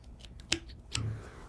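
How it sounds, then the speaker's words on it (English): Scissors cut through a strip of rabbit fur down to the leather, giving two sharp, close snips about half a second apart followed by a soft rustle. "I'm going to move my scissors through the fiber onto the leather of the rabbit,"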